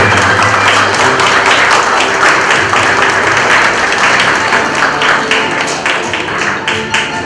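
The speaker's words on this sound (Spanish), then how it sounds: "El aplauso para él también." Dense, loud applause from a crowd at a quinceañera celebration, sustained clapping that fills the whole stretch and thins slightly toward the end.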